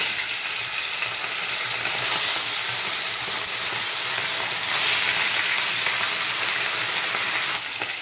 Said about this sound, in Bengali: সাইটিং মাছ ভেজে নেব।